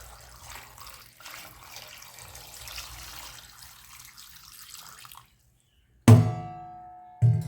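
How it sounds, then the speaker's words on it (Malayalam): Water is poured over washed tapioca in a pot for kappa biriyani, a steady faucet-like flow for about five seconds, then silence, followed by two sharp clattering knocks of a vessel. "ഇനി ഇതിനാവശ്യമായ വെള്ളം കൂടി നമുക്കിതിലേക്ക് ചേർത്ത് കൊടുക്കാം"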